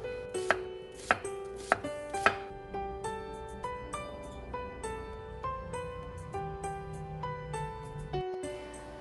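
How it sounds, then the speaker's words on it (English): A knife slices an organic onion into thin pieces on a cutting board, with close, steady rhythmic chopping taps, a few sharper strikes at first, then an even run of lighter cuts. "Slice one organic onion into thin pieces."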